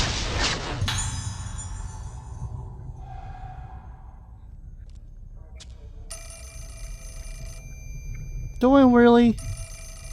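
A telephone rings in the horror video game Fatal Frame: Mask of the Lunar Eclipse, repeating a trilling electronic ring over low ambient game drones. Someone talks briefly over it.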